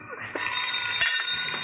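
A telephone rings in a room, a short burst of bright, trilling bell tone at moderate loudness with faint background noise.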